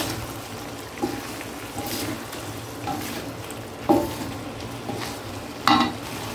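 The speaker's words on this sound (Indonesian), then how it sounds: "Dan aduk lagi." Chicken liver and gizzard fry in a pan with a steady sizzle while a utensil stirs them, scraping at intervals with a few sharper clanks against the pan, close and moderately loud.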